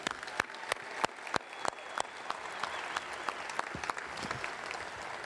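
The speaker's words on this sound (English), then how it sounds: "let's have a round of applause for our band and spirit squad" Applause for a band and spirit squad at a football coach's introductory press conference: scattered sharp claps that thicken into a softer, steady wash of clapping heard from a distance.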